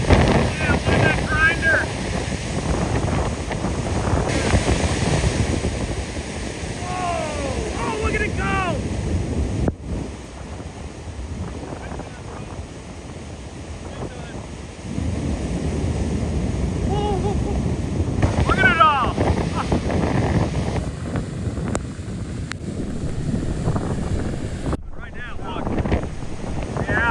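A flash flood roars down Whitewater Canyon in California as a loud, dense rush of churning water. Gusts of wind buffet the microphone and the roar swells and eases over nearly half a minute.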